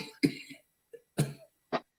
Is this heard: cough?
yes